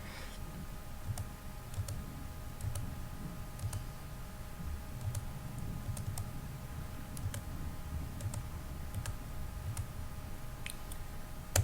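Calculator buttons are pressed to enter numbers for statistics, giving sparse, faint, irregular clicks over a soft room hum.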